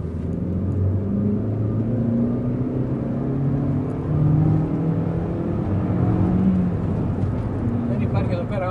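Suzuki Ignis 1.2 Allgrip petrol engine, non-turbo, pulling steadily under full throttle with a continuous low rumble and whir heard from inside the car, mixed with road noise.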